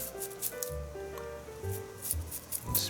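A hissing spray effect mimicking the splash of storm waves breaking on a shore, a few short bursts close up over a low rumbling bed, without talk.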